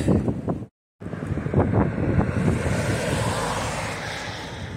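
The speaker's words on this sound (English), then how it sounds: "That wind is super strong." Strong, cold wind on Blood Mountain along the Appalachian Trail buffets loudly and continuously with gusty roaring rumble, cutting out briefly for a moment near the start before resuming.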